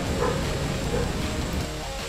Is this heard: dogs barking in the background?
yes